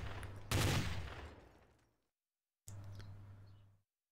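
Gunfire in the video game Trouble in Terrorist Town: two short bursts of synthetic shots, the first louder with a decaying tail, the second quieter, separated by a brief silence.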